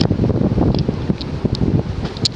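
A 60-inch Quorum Gallery 60 ceiling fan spins on high speed, giving a steady, close whooshing rush of moving air with a low rumble and no voices.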